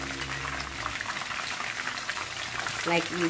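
Tenderloin beef fries in a pan for Mongolian beef, giving a steady bubbling sizzle that holds across the clip under a voice speaking briefly near the end.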